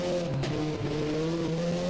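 A Ford race car at a European Hill Climb Championship round, its engine holding a steady, loud tonal drone that wavers slightly in pitch as it runs, heard alone.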